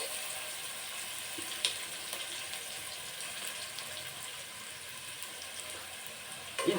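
Spices frying in a pan for bisi bele bath, a steady soft sizzle running the whole time at moderate level, with a small clink near the start and another near the end.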